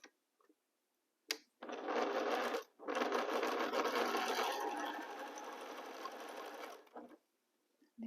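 A sewing machine stitches fabric rows together for a quilt, a steady loud mechanical whir running for about five seconds with a brief pause, alone and close.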